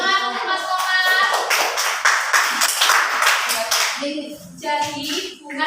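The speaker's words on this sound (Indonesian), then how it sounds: "Tepuk tangan, teman-teman." Classmates in a primary school lesson clap their hands together in a dense, steady burst of applause, with children's voices mixed in near the end.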